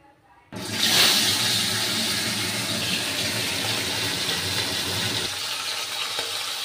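Hilsa fish hit hot hilsa oil in a home kitchen pan, bursting into a loud sudden sizzle that settles into steady crackling frying.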